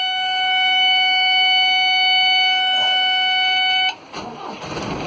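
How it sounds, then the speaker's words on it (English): The low oil pressure alarm on a Nelson 34 motor boat's engine sounds a steady, piercing electronic tone that holds for about four seconds, then cuts off abruptly and leaves a faint rumble of background noise. "The engines, that alarm's there for the low pressure oil."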